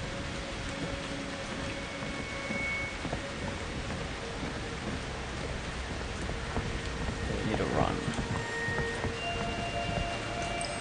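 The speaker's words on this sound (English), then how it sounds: "I don't know what I'm filming, maybe just the rain." Rain falls steadily in the horror video game Outlast 2 as a constant hiss, with a low rumble midway through and faint game tones layered over it.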